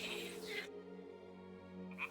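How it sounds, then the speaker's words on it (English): Toads croak in a game world in Kingdom Come: Deliverance 2, a steady low croaking chorus that thins briefly mid-clip, then swells again with a sharper call at the end, heard alone without voices. "Ah, the toads are croaking here."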